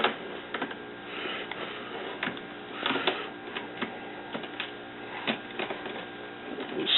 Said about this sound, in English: Just cutting this cut link off is what I'm gonna be doing here